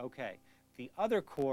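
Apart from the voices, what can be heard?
No distinct noise like a dog, phone or traffic.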